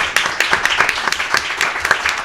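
A small audience at a live radio hour in a coffee venue claps for a musical guest, a modest round of distinct, fairly close hand claps with irregular rhythm and a few sharper individual claps.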